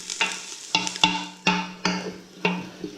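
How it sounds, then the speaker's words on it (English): Tomato puree gets stirred into a chickpea curry in a pan, a spoon scraping in about six distinct, evenly spaced strokes, close and clear, with a faint sizzle between them. "add it now and give it a good old stir and let it cook out for a minute"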